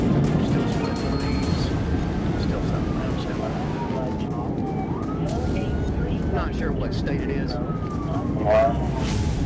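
A police car siren wails faintly during a high-speed chase after a Mustang, rising and falling beneath heavy, roaring road and engine noise.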